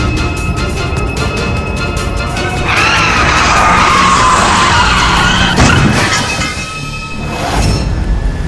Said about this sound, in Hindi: एक बाइकर पागलों की तरह बाइक चला रहा है।